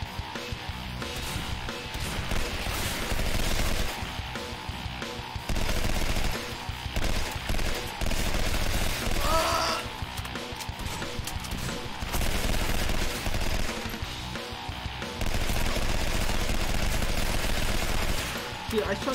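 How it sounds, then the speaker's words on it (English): Rapid gunfire from the video game Legendary, dense bursts of automatic shots that start and stop in loud, sustained volleys across the whole stretch. "Dude, I shot him like 20 times in the fucking pelvis."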